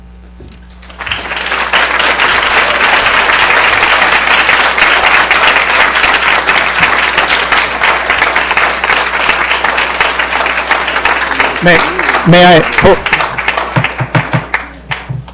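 Sustained audience applause fills a school board meeting room, loud and steady for over ten seconds before tapering, with a brief spoken question near the end.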